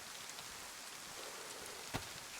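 Steady rain hisses across a DayZ game world, a dense even wash of drops with one brief sharper patter near the end and no voices.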